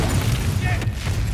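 A huge explosion rips through a burning truck on a bridge during a wartime battle, heard as a dense, sustained roaring rumble with a sharp crack partway through, loud and continuous.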